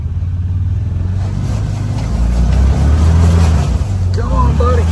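Can-Am off-road vehicle engine revving loudly while the machine swims through water, a close, steady low drone that surges and rises, with water churning and a voice speaking over it toward the end.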